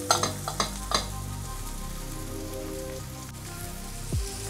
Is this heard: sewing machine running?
no